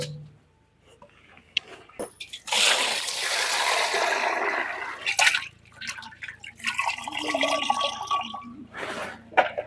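Water is poured over river fish in two long splashing bursts, close and fairly loud, with brief drips and quiet pauses between them.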